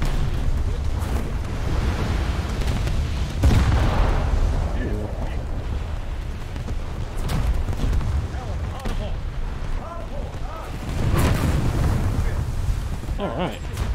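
Torpedo explosions in War Thunder's naval combat: deep rumbling booms with two stronger blasts a few seconds apart over a continuous roar, and a voice briefly audible in between.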